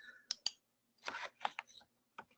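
Computer keyboard typing in a few sparse clicks and short bursts, quiet and close, with gaps of silence between keystrokes.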